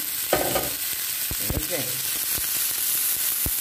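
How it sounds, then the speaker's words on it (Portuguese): Watercress stalks and onion sauté in a hot pan, a steady close sizzle broken by several sharp scrapes and knocks of a spoon stirring, with no speech. "E vamos refogar"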